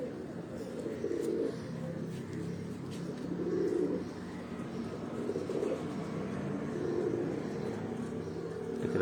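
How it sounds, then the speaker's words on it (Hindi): Pigeons cooing in a low, steady murmur that swells in soft rhythmic waves, with faint chirps and background noise throughout, set at a pigeon-flying gathering in Pindi Bhattian. "छेवां कबूतर आया जी"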